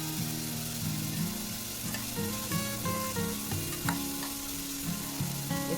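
Onion pieces for paneer bhurji fry in a pan with a constant sizzle, while steady tonal music plays over it.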